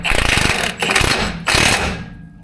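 An impact wrench hammers on the nut of a Bilstein 5100 shock absorber on a Ram 2500 pickup, giving three loud, close rattling bursts separated by brief pauses.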